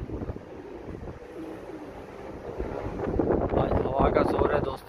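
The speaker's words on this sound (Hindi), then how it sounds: "आज हवा का बहुत जोर है।" Strong wind buffets an outdoor microphone at a pigeon-flying rooftop, giving a steady rumbling roar that grows stronger toward the end. A voice speaks faintly underneath.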